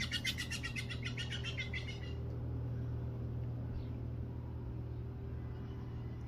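An agitated bird gives a rapid run of repeated sharp chirping calls for about two seconds, then falls silent. A steady low rumble continues throughout.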